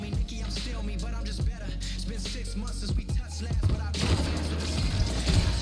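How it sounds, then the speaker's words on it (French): Sniper gunfire in a video game, several sharp cracks and thumps mixed into a busy, dense game soundscape with layered effects and rumble. "Sniper fond de map. Il a pris une balle."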